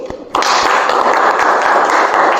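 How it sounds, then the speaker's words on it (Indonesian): A class of junior high students breaks into applause for a classmate, dense steady clapping that starts suddenly and fills the room, close and loud, with no talk over it. "Tepuk tangan untuk Sugi"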